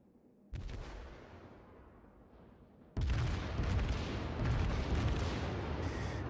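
Heavy naval gun salvos from the Kongo battleship in World of Warships, a booming blast followed by a rumbling tail, then a second, louder broadside that roars on, with no talking.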